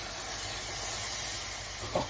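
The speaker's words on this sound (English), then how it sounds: "keep your hands away from the steam" Hot caramel in a pan hisses and steams loudly after cream is poured in, a steady close sizzle that runs throughout, with a brief clatter near the end.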